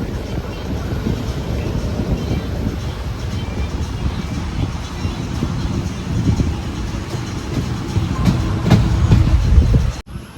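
A train rumbles steadily along the rails in monsoon weather as it approaches Walayar station in Kerala, with a loud continuous low roar and faint rhythmic clatter throughout, swelling slightly near the end.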